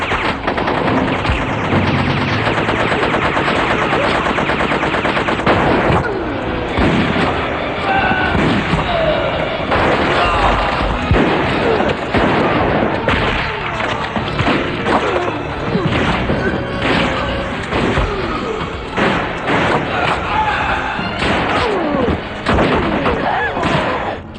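Dense, loud gunfire from gang shootout scenes in the film LA Wars, with sustained bursts of automatic and rapid shots, heavy impacts and crashes running continuously with hardly a pause.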